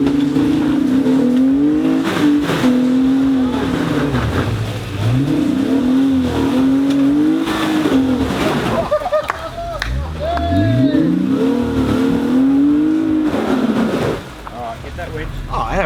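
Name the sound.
4x4 off-road truck engine revving during snatch recovery up hill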